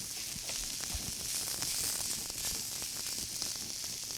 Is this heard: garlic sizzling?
yes